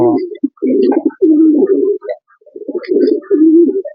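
Racing pigeons coo loudly and close, in repeated low throaty phrases with short pauses between them.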